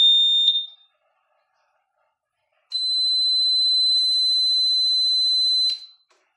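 A ventilator alarm buzzer on an SLE 5000 unit with no power sounds as a short high electronic beep, then after a pause a steady piercing tone held for about three seconds, alone and close.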